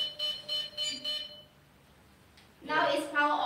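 Anti-theft alarm on a King Song N12 Cobra electric scooter sounds in loud repeated beeping bursts, stops, then resumes, with people talking nearby.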